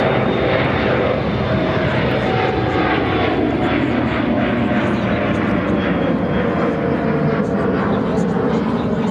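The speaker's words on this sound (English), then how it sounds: "American Dreamliner up next for arrival on 28 center" An American Airlines Boeing 787 Dreamliner from Barcelona arrives on runway 28 center at Chicago O'Hare with a loud, sustained jet rumble and whine, while a person talks over the engine noise.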